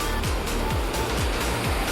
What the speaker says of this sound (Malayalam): താഴെയൊക്കെ വെള്ളച്ചാട്ടം കേട്ടോ.